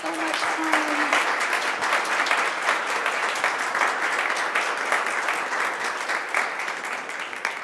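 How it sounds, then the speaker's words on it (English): Loud, sustained applause from a live audience at the end of a stage performance, steady dense clapping that holds for the whole stretch, with faint vocal murmur mixed in. "Let's have a huge, thunderous round of applause."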